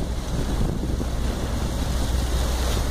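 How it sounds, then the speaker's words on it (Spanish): Water overflowing from a full tanker truck tank, a steady loud rushing gush mixed with wind buffeting the microphone, continuous and close. "Ya empezó a surgir el agua, miren."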